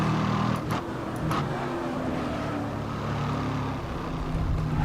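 Race car engine in GRID Autosport, steady loud droning with shifting pitch as the car is flicked back and forth through street-circuit chicanes, continuous throughout with no talk.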